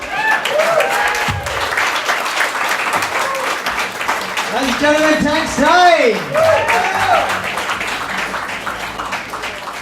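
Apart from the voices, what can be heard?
comedy club audience applause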